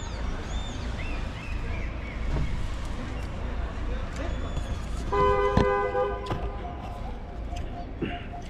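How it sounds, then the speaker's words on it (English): Car horns honk for a wedding on a street beside a food truck, a long steady toot partway through with shorter beeps, over traffic noise and people talking. "So when they get married, they honking on their car."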